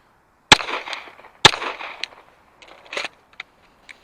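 Two sharp, loud pistol shots about a second apart, fired strong hand only in a shooting drill, each followed by a short ringing decay, then a few faint clicks and handling noises.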